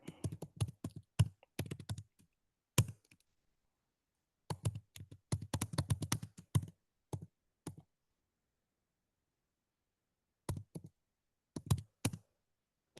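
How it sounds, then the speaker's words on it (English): Fingers type in quick bursts on a computer keyboard, clicking rapidly in several runs separated by silent pauses, close and fairly quiet. "if I can type"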